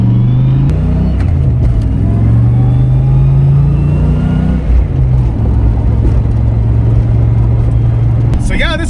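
A turbocharged 302 car engine drones loudly and steadily, with a sustained T5 transmission whine rising and falling in pitch as the car accelerates on the street, voices faintly underneath.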